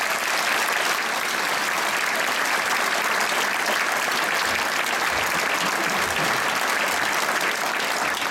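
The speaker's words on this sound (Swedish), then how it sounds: "Jag vill att ni ger en varm applåd för Evelina Åkesson och Gustav Brandt." A large audience gives warm, sustained applause at a Christmas concert, a dense steady wash of clapping that stays loud and even from start to finish with no voices over it.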